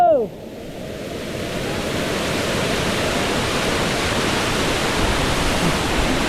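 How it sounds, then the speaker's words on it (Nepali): Bahubali Waterfall sends down a loud, continuous roar of rushing water close by, the steady wash filling the whole scene after a brief voice at the very start. "बब्बाल छ झरनाहरू होइन"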